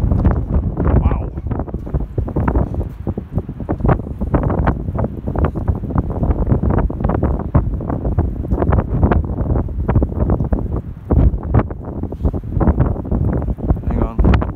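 Strong wind batters an icy cliff and the microphone, a loud, continuous rumbling roar with constant gusty buffeting that never lets up.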